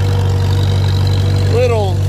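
A farm tractor idles close by with a loud, steady low drone throughout, while a brief rising tonal sound cuts in near the end.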